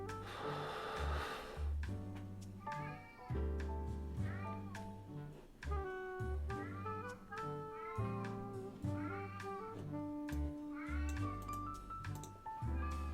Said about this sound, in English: the other cat screaming is Max